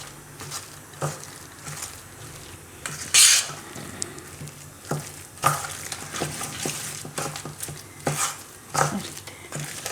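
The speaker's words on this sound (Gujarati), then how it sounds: "અને મિક્સ કરી લેવું" Mixed dal vada batter stirred and mixed in a bowl, wet squelching strokes with spoon clinks against the side, close and uneven in rhythm, with no one speaking.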